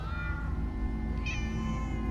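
Several cats meowing in Minecraft: Story Mode over a constant electronic hum and background music, one brighter mew rising near the middle; nobody talks.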